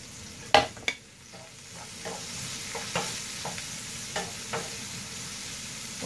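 Chopped onion and chicken fry in a pan, giving a faint, steady sizzle broken by a couple of sharp clinks of a utensil on the pan at the start and softer stirring scrapes that recur through the rest.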